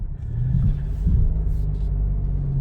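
A steady low engine drone and road rumble fill the inside of a moving 2021 Mitsubishi Space Star 1.2 CVT, with slight swells as it drives.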